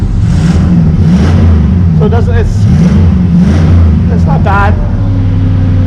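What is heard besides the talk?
4.8 V8 pickup truck engine revving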